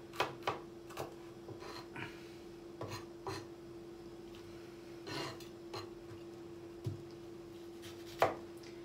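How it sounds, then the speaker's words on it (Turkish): A knife chops potatoes into cubes on a cutting board, about a dozen sharp close taps spaced irregularly, some in quick pairs, over a steady low background hum. "Patateslerimizi de küp küp doğrayacağız arkadaşlar."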